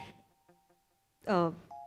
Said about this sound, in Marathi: वंशवल्लरी वंसनचा फोन आहे